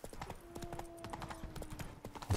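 Horse hooves clip-clopping at a steady pace in The Witcher 3: Wild Hunt, Blood and Wine, a rapid run of close, distinct hoof beats with faint tonal game ambience beneath and a louder thump at the very end.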